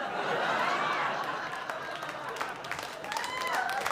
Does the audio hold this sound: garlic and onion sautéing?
no